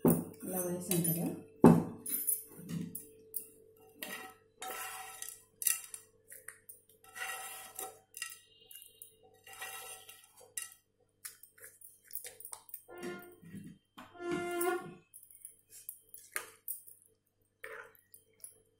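A spoon stirs tempering into curd rice in a bowl, with soft squishing and scraping and occasional light clinks against the dish, coming in uneven bursts with short pauses.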